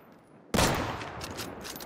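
Gunfire rings out in the video game Deadside as a sudden loud burst of shots, followed by a dense, echoing rattle of further fire.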